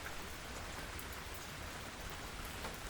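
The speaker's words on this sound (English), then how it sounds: "the branches offering gentle shelter from the rain" Steady rain falls beside a river, a dense, even hiss of drops that runs continuously and fairly softly with no voices.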